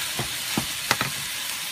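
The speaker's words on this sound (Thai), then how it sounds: "เอาหมูผัดลงไปในน้ำพริกนะคะ" Pork stir-fried into dry chili paste in a home kitchen makes a few short sizzling, scraping bursts, with quiet pauses between the stirs and no talking.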